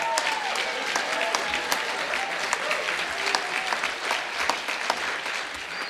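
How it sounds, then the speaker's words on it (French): Audience applause at a school Christmas show, steady clapping from a crowd filling the whole stretch at moderate loudness, with a voice briefly heard over it. "On peut l'applaudir"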